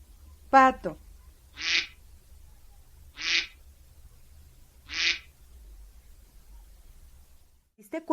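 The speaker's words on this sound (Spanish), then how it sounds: "pato" Three short, evenly spaced duck quacks stand out clearly against a quiet background, with a brief higher call before them and another at the very end.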